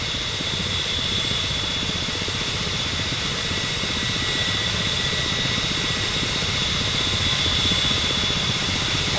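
A Ka-50 Black Shark helicopter in the DCS flight simulator holds a steady hover, its rotor and turbine drone continuous and loud for the whole stretch with a bright whine above the low rumble.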